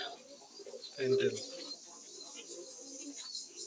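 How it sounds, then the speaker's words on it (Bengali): Red Bombay pigeons on a fancy pigeon farm cooing softly, with one fuller, louder coo early on and quieter murmuring coos after, close by, with faint talk in the background. "লাল বোম্বাই কবুতর"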